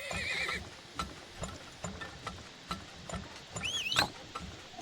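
A horse-drawn carriage in the video game Turmoil clip-clops along with soft rhythmic hooves, a brief whinny and small mechanical creaks, all quiet.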